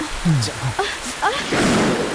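Broad hiss of heavy rain with strong gusting wind in a film scene, voices speaking briefly over the downpour.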